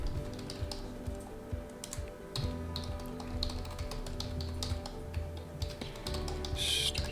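Login username and password keyed in on a computer keyboard for robot-picking software, a close run of quick, irregular key taps with brief pauses over a low steady hum.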